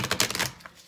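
A tarot card deck being shuffled, a quick run of papery riffling clicks that thins out toward the end, close and fairly quiet with no voice.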